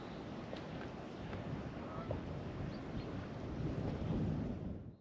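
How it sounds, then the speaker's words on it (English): Wind blows steadily outdoors where a trap has been set, a broad rushing roar that buffets the microphone and swells a little toward the end before cutting off. No one speaks. "Hopefully that wind drops a bit for us."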